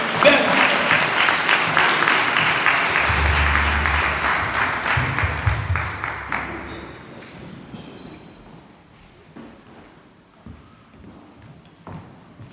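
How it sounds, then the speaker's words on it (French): Congregation applauding during a church service, a dense wash of clapping that holds steady for about six seconds, then drops away to a quiet room with faint scattered sounds. "nous applaudissons le Seigneur"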